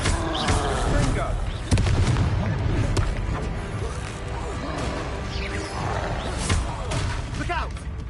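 Fiery Confringo spell blasts boom repeatedly in a video game, with loud explosive bursts and roaring impacts heard over people talking.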